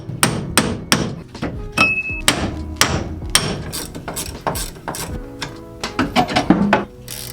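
A hammer strikes tie rod ends and ball joints on a VW spindle, giving a steady series of sharp metallic blows, about two a second, close and loud, with some mechanical clatter near the end and no talk.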